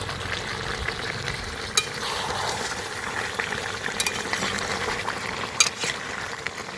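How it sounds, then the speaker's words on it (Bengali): Chicken and potatoes sauté together in a pan, a steady moderate sizzle with a few light scrapes and clicks of a stirring spoon, close and without talk. "আলুটা ভেজে নেওয়ার আজকে আর নি এইভাবেই দিয়ে দিলাম এই মাংসের সঙ্গে কিন্তু কষিয়ে নেব"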